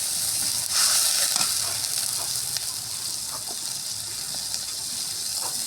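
Water hitting hot oil and chopped onions in a kadai raises a loud, steady sizzle and gush that holds throughout, with a brief surge near the start.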